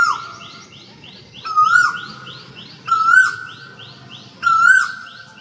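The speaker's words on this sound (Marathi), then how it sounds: "पक्ष्यांचा आवाज ऐकता येईल" Birds call from the trees behind a house: a loud, clear whistled phrase repeats four times at regular intervals over a softer chorus of rising chirps.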